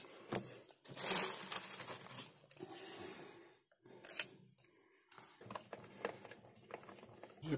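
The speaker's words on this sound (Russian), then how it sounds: "Закрутили все винты" Screws being driven into the plastic housing of a SVEN PS-195 portable speaker, heard as close, quiet clicks, ratcheting scrapes and handling rustle in irregular bursts separated by brief pauses.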